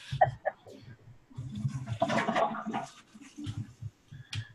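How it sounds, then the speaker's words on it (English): A household toilet flushes in a building near Clearwater Beach, a rushing burst of water in the middle of the clip with people talking before and after it. "Is somebody flushing their toilet?"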